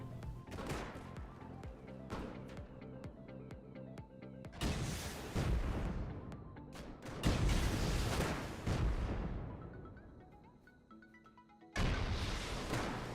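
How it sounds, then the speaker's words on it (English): Rockets exploding one after another during a massive raid in the game Rust, heavy booms and rumbling blasts of varying distance piling up, with loud sharp impacts breaking in and long decaying rumbles between them. "All these rockets going off, just an absolutely massive attack"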